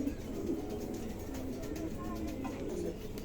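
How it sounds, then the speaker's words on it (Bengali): Pigeons for sale coo in low, steady rounded calls, close by and continuous under light background noise, with a person speaking nearby. "দুটো কবুতরই মার্শাল্লাহ খুবই হিট আছে দুটোই নতুন কবুতর"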